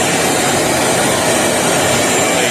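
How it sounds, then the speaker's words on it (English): A Craftsman CMXEVBE17595 16-gallon, 6.5 peak HP wet/dry shop vac running with no exhaust baffle fitted, giving a constant loud rushing whoosh of air with no breaks. "This thing is like not loud at all, really, for a shop vac."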